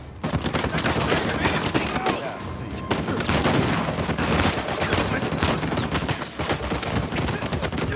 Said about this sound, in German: Pass auf das Geschütz auf!